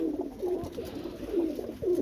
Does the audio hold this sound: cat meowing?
no